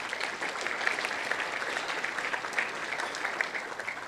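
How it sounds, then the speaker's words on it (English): Applause from a conference audience for volunteers at the USENIX ATC 2019 opening remarks, a steady wash of clapping heard from a distance, moderately quiet and even throughout. "let's give them a round of applause anyway."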